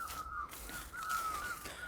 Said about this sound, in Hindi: if you are new person listening to this birds तो ये तुम्हारे लिए it's bird song it's very pleasant